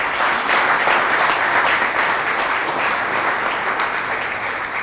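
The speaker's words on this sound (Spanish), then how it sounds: "Un fuerte aplauso" Audience applause fills a science and technology program launch ceremony in Miraflores, a dense, steady, loud clapping that carries for several seconds and eases slightly toward the end.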